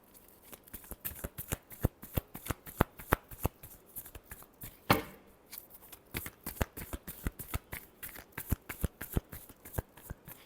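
A deck of playing cards being shuffled during a tarot-style reading, with repeated crisp riffling clicks and snaps in quick bursts, close and clear, with no talking.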